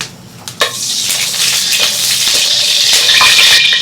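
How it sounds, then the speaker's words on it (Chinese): Sugar fries in hot oil in a wok for caramel color, a loud, close, continuous sizzle with a few clanks of a spatula stirring quickly. "炒糖色的时候一定要快速的不停搅拌"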